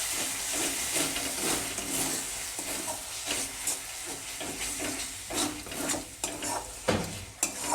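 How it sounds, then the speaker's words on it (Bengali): Spices with salt and turmeric sauté over a low flame for a jackfruit curry, a steady close sizzle broken by repeated scraping stirs of a spoon against the pan. "এবারে এই মশলাগুলো খুব ভালোভাবে কষিয়ে নেব।"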